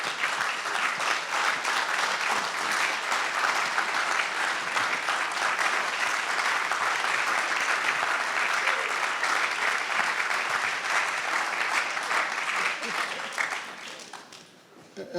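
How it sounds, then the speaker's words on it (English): Sustained audience applause at a Founders' Day convocation, dense steady clapping from a large crowd that holds for about thirteen seconds before fading out near the end. "Let's give this group a real clap of appreciation."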